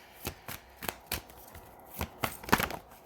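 Brisk bursts of cards being shuffled, several quick riffles in an uneven rhythm, close and fairly quiet with no talking.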